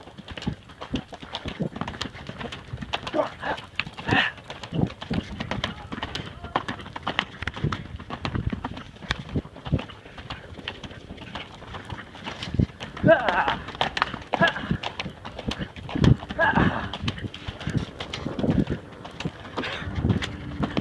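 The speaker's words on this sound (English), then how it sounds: "We're running a horse through the bottom of the Grand Canyon." A horse runs along the bottom of the Grand Canyon, its hooves clip-clopping in a quick, uneven rhythm close by, with wind noise and occasional voices calling out over the hoofbeats.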